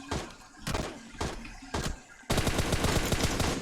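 Gunfire in PUBG Mobile: four spaced, punchy single shots followed by a dense rapid burst of automatic fire, loud and close, with no voice over it.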